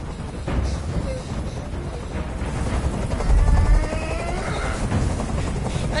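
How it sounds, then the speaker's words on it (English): A helicopter hovering in a video game, its rotors thumping and whirring continuously, loud and close, within a dense wash of rumbling noise and a brief heavier boom midway. "Tell that helicopter to get out of here."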